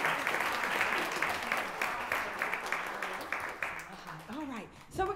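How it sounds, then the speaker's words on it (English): A high school choir audience applauds in a steady, dense wash of clapping that thins toward the end, with a voice speaking briefly near the close. "Y'all clap one more time for this"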